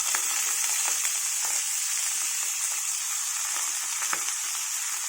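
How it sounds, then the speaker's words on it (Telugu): Ponnaganti greens fry in a pan, giving a loud, steady sizzle with occasional soft scraping taps from stirring throughout. "అలా కలుపుకుంటూ ఆకు అంతటి వేసేసుకున్నాం."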